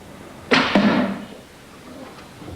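A fast arrow loosed from a powerful bow smacks through a wooden door and into the next: one sharp close crack, a second impact right after, then a short fading rattle before quiet.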